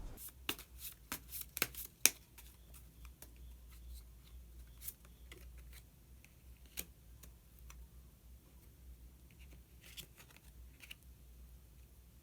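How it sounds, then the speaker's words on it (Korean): Tarot cards being shuffled and drawn, a quick burst of crisp riffling snaps early on, then scattered soft flicks and taps of cards as one more card is pulled, close and quiet. "마지막으로 마법사 카드 한 장 더 뽑아보도록 하겠습니다"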